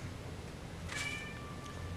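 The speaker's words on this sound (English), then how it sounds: "I don't know if you can hear the cat in the background" A house cat gives a single faint meow in the background, brief and distant over a low room hum, with no one speaking.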